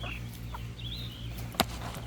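Chickens inside a coop make soft, scattered clucks and short calls over a steady low hum, with one sharp, brief sound near the end.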